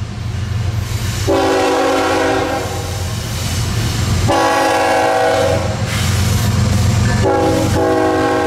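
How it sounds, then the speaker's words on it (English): A passing freight or locomotive train sounds its horn in three long, loud blasts over the steady rumble and clatter of the rails. "Giving you a special horn"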